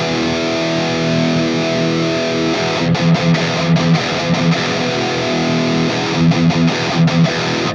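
An Ibanez RG653DX electric guitar through a Fractal FM9 5150 high-gain preset, a loud sustained distorted chord that breaks into tight chugging palm-muted riffs, played alone.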